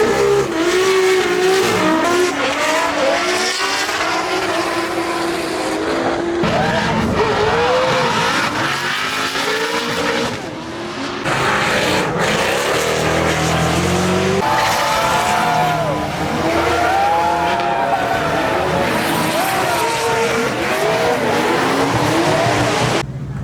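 Race cars drifting at Laguna Seca during Gridlife 2024, with continuous loud engine roar, rising and falling revs, and long squealing tire screeches as cars slide past, heard from trackside with a crowd-like wash underneath.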